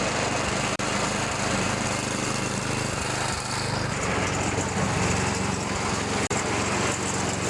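A snowblower engine runs steadily at high speed after a carburetor adjustment, a loud, continuous close-up motor drone with two brief dips in level.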